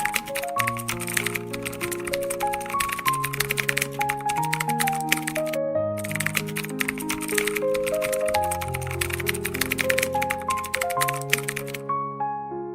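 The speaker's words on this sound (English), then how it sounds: "I type slowly." Slow, steady keyboard typing clatters continuously beneath a soft, melodic piano-like music bed, with a brief pause near the middle and the keystrokes stopping just before the end.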